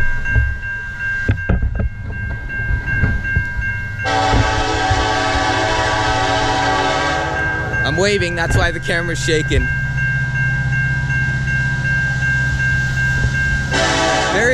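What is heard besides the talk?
CN intermodal freight train passing a crossing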